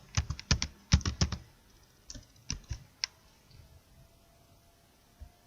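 Someone typing the FILTER function into an Excel sheet on a computer keyboard: a quick burst of crisp key clicks, then a few slower scattered taps, close and moderately quiet, with no voices.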